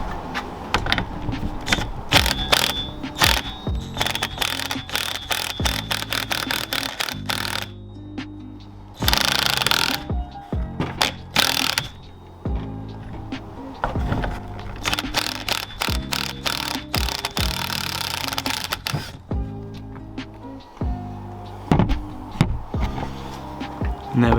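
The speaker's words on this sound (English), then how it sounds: "I'm going to take this nut off and put the new top mount on" A 22mm socket on a ratchet works a car's suspension top mount nut loose, giving dense, loud runs of rapid metallic clicking and rattling in bursts, broken by short pauses, with no one speaking.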